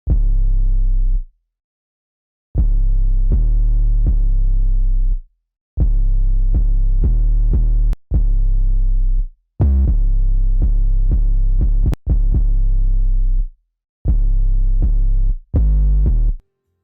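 Deep 808 bass sample patterns for an anime phonk beat, booming tones in rhythmic clusters of short and sustained hits separated by brief silences, loud and alone.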